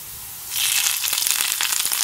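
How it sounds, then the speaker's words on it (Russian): Onion and morel mushroom caps fry in a hot pan, bursting into loud, steady sizzling after a short quiet start, with sharp spitting crackles popping throughout. "Огонь делаем немножко потише, а то, видите, все стреляет."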